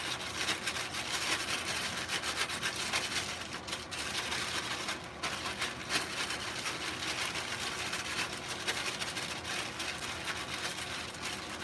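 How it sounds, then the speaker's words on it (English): Coco coir, vermiculite and gypsum tumbled with mushroom spawn inside a plastic grow bag, a steady close crinkling, rubbing rustle with brief pauses, no talking. "Now you take your bag with the CVG and the spawn, and you just mix it up. Mix it up really well."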